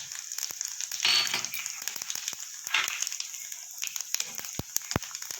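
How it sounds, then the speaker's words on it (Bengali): Whole cumin, bay leaf and garam masala tempering sizzling in hot oil, a steady crackling fry with sharp pops and spits, close and alone. "ফোড়নটা আমার ভাজা হয়ে গেছে"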